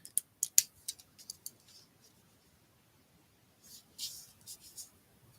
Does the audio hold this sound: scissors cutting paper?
yes